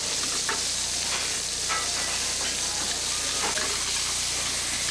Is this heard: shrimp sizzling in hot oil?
yes